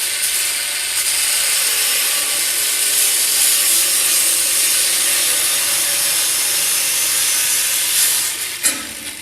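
A steel trunk bar for a boat's bulkhead framing is cut to length with a steady, loud, harsh cutting roar that runs for about eight seconds without pause, then stops abruptly near the end.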